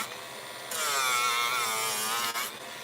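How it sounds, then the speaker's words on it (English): A small Dremel sander takes an edge off a paper craft piece, giving a steady high whirring grind that starts abruptly, holds for nearly two seconds and then cuts off, heard alone and close. "I'm just taking this edge off of here with this little Dremel sander"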